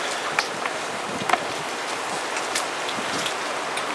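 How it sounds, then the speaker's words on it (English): Rain falls steadily outdoors on a cold day, a dense, even patter of drops with a few sharper taps, close and fairly loud, with no voices. "It's starting to rain again"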